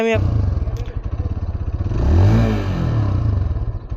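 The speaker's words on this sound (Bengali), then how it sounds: "তো বাইকের সাউন্ডটা একটু কাছ থেকে" A Hero Xtreme 160R 4V motorcycle engine idles close by with a rapid, pulsing exhaust note. It swells in a brief rev near the middle, then settles back to idle.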